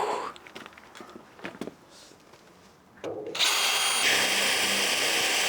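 Scattered knocks and scrapes give way to a loud power drill starting up and drilling into a giant steel ball, whining steadily and close until the end.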